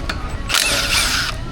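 Power tool whirring briefly as it removes a bracket nut holding a brake line on a Toyota Tacoma, a loud close burst of about a second with a rising mechanical whine.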